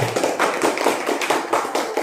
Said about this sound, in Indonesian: Tepuk tangan dulu untuk kelompok energi